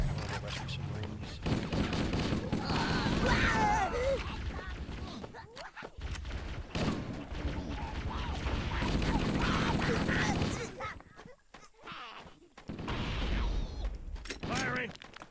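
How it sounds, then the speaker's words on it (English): Gunfire in the video game Halo: Combat Evolved, bursts of rapid shots repeating through the clip, mixed with battle effects and in-game voices talking. "Firing!"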